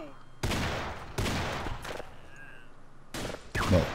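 Shotgun gunfire in the video game Half-Life, several loud blasts in quick bursts with brief gaps between them, with players talking faintly underneath.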